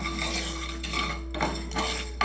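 Whole spices for garam masala are roasted in a pan, stirred with a metal utensil that gives a steady scraping and rattling over a constant low hum, with a few louder swipes.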